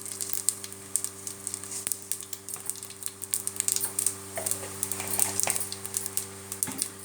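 Fennel seeds sizzle and pop in hot oil for aloo paratha, a crisp crackling spatter with rapid irregular ticks and pops over a low steady hum, close and moderately loud.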